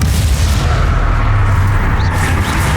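The Bombarda blasting spell explodes in Hogwarts Legacy, a loud, deep booming rumble that stays dense and sustained throughout, with heavy low-end blasts rolling into one another.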